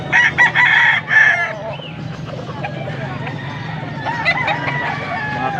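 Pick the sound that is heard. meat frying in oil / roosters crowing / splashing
roosters crowing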